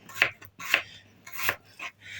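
A knife slicing an onion into thin strips on a board, a handful of separate crisp cuts at an uneven pace, close and fairly quiet.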